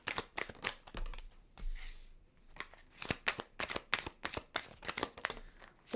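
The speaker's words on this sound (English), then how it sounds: "I just got to change up the cards from the back because they're still coming out to be the same" A deck of tarot cards is shuffled by hand during a reading: papery flicks, riffles and rustles come in quick, uneven bursts, close to the microphone and without talk.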